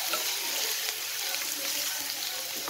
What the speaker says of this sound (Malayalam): പച്ചമണം ഒന്ന് പോണ വരെ ഒന്ന് ഇളക്കി കൊടുക്കുക